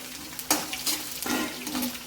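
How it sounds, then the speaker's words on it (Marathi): Peanuts stir-fried with browned onion in a kadhai for spicy rice crackle and scrape in a few quick, close stirring bursts. "शेंगदाण्याला पण छान असं परतून घ्यायचं"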